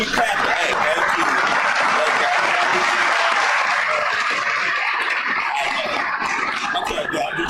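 Continuous clapping from an audience at Magic City during a live radiocast, loud and even for the whole stretch, a thick crowd texture with faint voices blended into it.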